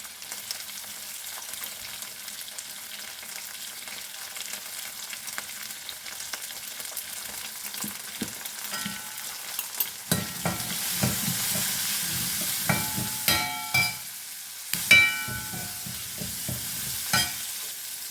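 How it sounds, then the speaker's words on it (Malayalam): Six to eight green chillies sizzle and fry in a pan for a Palakkad-style chilli dish, with steady crackling and bursts of scraping as they are stirred; no voices. "ഒരു 6-8 പച്ചമുളക് ഇട്ടിട്ടുണ്ട്."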